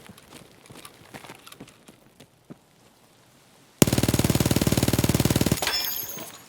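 A Vector .45 submachine gun in Escape From Tarkov rips off a fast, loud sustained burst of rapid-fire shots, preceded by quieter footsteps and small clicks, with the burst trailing off into a tail of echo.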